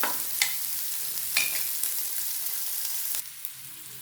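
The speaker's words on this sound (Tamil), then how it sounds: "பெருஞ்சீரகம், வெங்காயம், நல்லா வதங்கினதும்" Fennel seeds and onion sautéing in a pan for a dried-fish thokku, a soft steady sizzle with several sharp scraping clicks of a spoon stirring against the pan, no talking.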